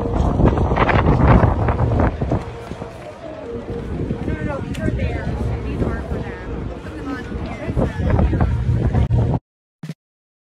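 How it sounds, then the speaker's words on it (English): Heavy wind buffets the microphone in continuous rough gusts at a Buffalo Bills football game, nearly drowning out people talking beneath it, before cutting off abruptly at the end. "It's so windy."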